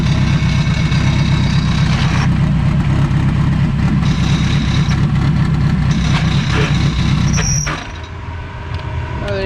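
A big-turbo Dodge SRT4 engine runs close by with a loud, steady rumbling idle, then drops off sharply near the end leaving a quieter hum.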